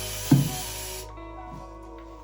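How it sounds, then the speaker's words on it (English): Fine mist from a spray bottle misted over a wig, a soft continuous hiss with a short burst at the start, then a quieter steady spray fading out, close and alone. "I will spray it, and see, it just sprays a really fine mist"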